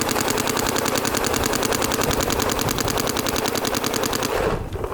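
Planet Eclipse paintball gun fired in a fast, continuous string of shots, a loud close rattling volley that runs nearly five seconds before stopping abruptly.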